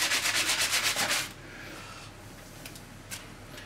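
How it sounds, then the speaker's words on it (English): Hot, softened HDPE plastic from milk bottles is twisted by hand, giving a close, rhythmic rubbing and squeaking scrape for about a second before it fades into quiet room noise. "Got a bit more of that rubbing."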